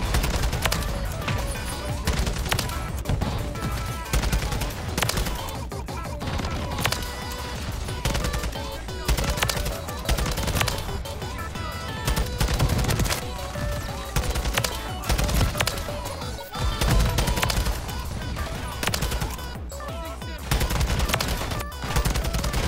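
Sustained automatic gunfire in Modern Warfare 3 on the Orion camo, rapid loud bursts with brief pauses and explosive cracks, constant throughout.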